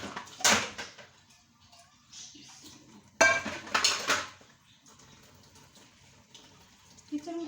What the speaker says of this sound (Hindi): थोड़े से बर्तन हो लेते हैं, धोने वाले हैं पड़े हुए।